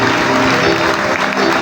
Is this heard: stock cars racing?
no